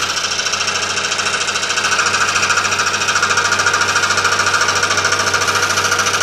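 A scroll saw cuts through metal with a loud, fast, rattling buzz of the reciprocating blade. The sound is continuous, close and alone, and it swells slightly partway through.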